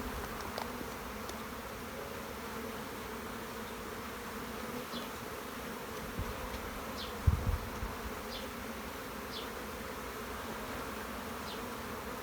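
A steady, dense buzz of many bees, mostly nurse bees, packed into a queen cell starter hive, droning continuously, with a brief knock partway through.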